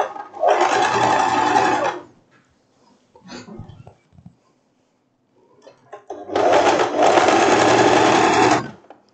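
A sewing machine stitches bias tape onto a wrap dress in two loud, fast bursts of whirring, each lasting a couple of seconds, separated by a pause filled with soft fabric handling and clicks.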